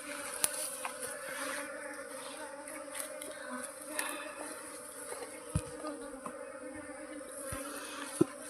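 A honeybee swarm pours into a basket, giving a steady, faint insect hum that carries throughout, with a few soft knocks and no voices.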